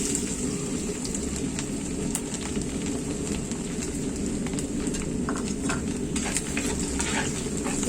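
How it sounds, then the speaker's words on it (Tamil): Chopped garlic sizzling in hot oil in a clay pot, a steady crackling fry with occasional stirring scrapes throughout. "இந்த டைம்ல நம்ம பொடியா நறுக்கி வச்சிருக்க பூண்டை நம்ம ஆட் பண்ணிக்கலாம்."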